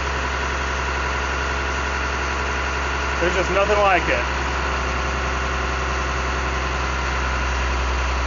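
A heavy Army M35A3 military truck engine idles with a steady low rumble and rhythmic throb while someone speaks briefly over it.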